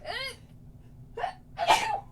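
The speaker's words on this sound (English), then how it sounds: "I am going to actually sneeze" A short pitched gasp, then two abrupt bursts, the second louder and breathier, like a sneeze close by.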